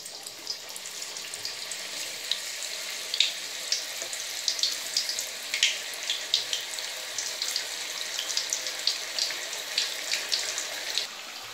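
Sliced banana chips fry in hot refined oil for Kerala-style chips, a steady close crackling sizzle with frequent small pops throughout and no voices.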